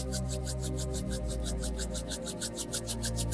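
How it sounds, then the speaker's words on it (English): Two palms rub briskly together in a quick back-and-forth rhythm, a close, dry swishing friction that repeats evenly several times. "Go ahead and rub your palms together like we did at the beginning."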